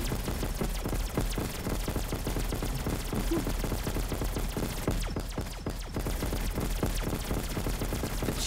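Sustained Call of Duty gunfire rattles without pause, loud and close, a dense stream of rapid shots layered with game effects throughout.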